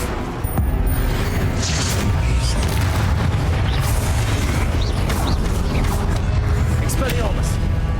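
Incendio fire spell blasts in Hogwarts Legacy combat: loud, continuous rumbling booms and crackling bursts layered over dense battle noise, with a voice shouting spell names amid the din.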